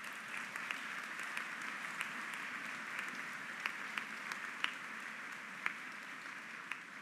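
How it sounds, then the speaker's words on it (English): A graduation ceremony crowd applauds faculty, staff and administrators. The clapping is soft and distant, with a few sharper individual claps standing out from the steady patter. "You deserve a big round of applause for your excellent work."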